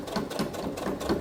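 A domestic sewing machine stitching forward and then in reverse, a steady rapid mechanical whirring and clatter, close up with no voices.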